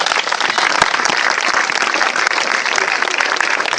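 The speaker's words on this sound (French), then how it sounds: "On acclame Jésus" Audience applause in a church service, steady loud clapping from a crowd that fills the whole moment without a break.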